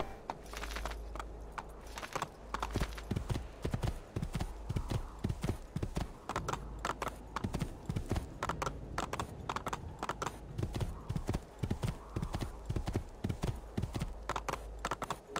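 Horse galloping in Assassin's Creed 2, with rapid rhythmic hoofbeats drumming steadily and close throughout, loud and uninterrupted over a faint game background.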